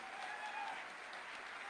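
Seminar audience applause at a direct selling industry association event in India, a faint, continuous patter of clapping from a large indoor crowd.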